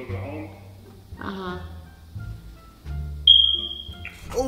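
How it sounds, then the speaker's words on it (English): A smoke detector gives a single sharp, high electronic chirp partway through a casual indoor conversation, heard under and between people talking. "fix your smoke detector now, please"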